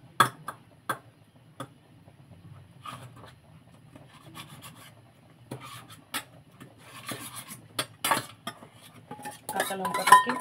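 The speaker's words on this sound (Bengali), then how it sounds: "এইবার আমি প্রথমে কাঁচা লঙ্কাটাকে ডলবো।" Green chili gets rubbed and crushed by hand in a dish, giving soft, close scraping and rubbing sounds with occasional sharp clicks against the dish.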